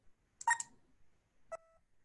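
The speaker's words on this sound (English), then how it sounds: "the 1 should give me the single low beep" A money identifier device gives a single low beep for a one-dollar bill: a faint, short electronic tone following a brief burst of clicky tones, in an otherwise quiet room.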